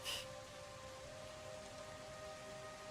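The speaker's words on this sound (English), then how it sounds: "The rains sort of peter out." Tabletop storm ambience of soft, steady rainfall with a faint low whistling tone, heard alone and quietly in the background.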